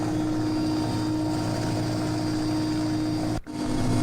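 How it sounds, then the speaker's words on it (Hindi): An air force helicopter flies over a flooded area in Darbhanga, dropping food packets to flood victims. Its steady, loud rotor and engine drone fills the whole stretch and dips briefly near the end. "दरभंगा में हेलीकॉप्टर से फूड पैकेट गिराए जा रहे हैं।"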